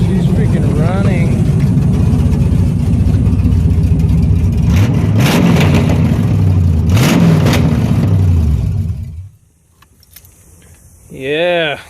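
A V8 engine swapped into a Chevrolet S10 truck runs on its first start, a steady loud rumble with rising revs before cutting off near the end. Metallic jangling rides over it, and a voice is heard briefly afterward.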